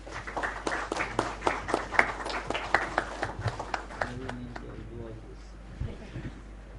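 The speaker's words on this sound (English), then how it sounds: "A round of applause, please." Audience applause at a formal Supreme Court of India guest event, scattered claps rising from quiet background and fading within a few seconds, moderately distant and fairly faint.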